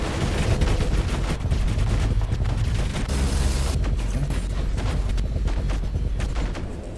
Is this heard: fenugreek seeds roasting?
no